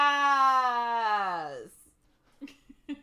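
A human voice imitates a cat's meow with one long, drawn-out call that slides downward and fades, followed by a few soft murmured sounds.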